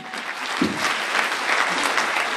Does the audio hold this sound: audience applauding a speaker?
yes